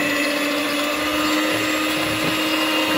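A steady electric hand mixer motor whine drones continuously at constant pitch while whisking Viennese waffle batter, running without pause.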